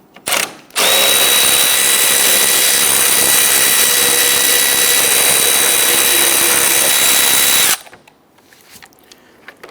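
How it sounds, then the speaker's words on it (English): A loud power drill or impact driver runs steadily for about seven seconds while loosening and removing 10mm bolts along the top of a 2011-2019 Ford Explorer front bumper, with a whining tone throughout and quiet before and after. "there's a series of 10mm bolts running across the top. Let's go ahead and loosen and remove these"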